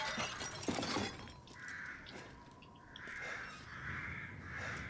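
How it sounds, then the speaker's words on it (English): Several crows caw in Resident Evil Village, each call a harsh, drawn-out croak repeated at a steady pace over a quiet game backdrop, after a burst of breaking glass at the start. "Crows."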